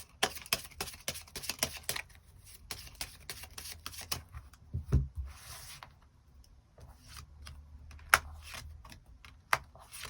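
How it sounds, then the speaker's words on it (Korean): Tarot cards handled at a quiet table: soft rapid riffles and shuffling rustles, then scattered light card slaps and slides as cards are drawn and laid out, close and faint with no talking. "추가 카드 뽑아보도록 하겠습니다"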